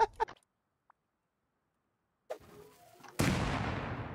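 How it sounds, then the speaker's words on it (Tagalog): An explosion in the video game Rust erupts suddenly as one loud, close blast, then rumbles and slowly fades, after a few faint knocks and rustles. "Sumabog agad."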